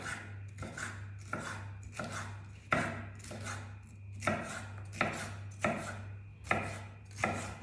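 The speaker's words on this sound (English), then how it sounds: "And then we need to cut it in small squares." A knife chops a bell pepper on a cutting board, cutting slices into small squares, with a steady series of sharp, close knocks about every two-thirds of a second over a low constant hum.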